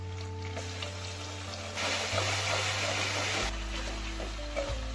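Ground spice paste drops into hot oil in a pan and sizzles, a hiss that swells in the middle of the clip and then settles back down over a steady low kitchen hum.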